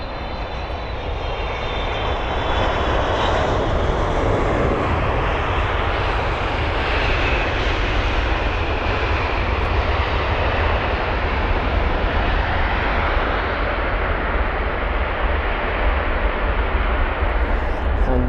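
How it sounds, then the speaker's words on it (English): China Eastern Airlines Boeing 777-300ER landing at London Heathrow, a sustained broad engine roar growing and holding loud for many seconds, near and steady. "It's going to be China Eastern Airlines in the 777-300ER."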